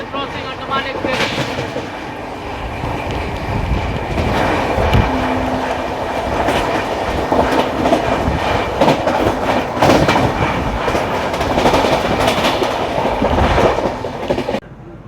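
The Andaman Express rolls past at a crossing near Nagpur Junction, close and loud, its wheels clattering in a steady rhythm over the rails with brief higher squeals and a continuous rumble.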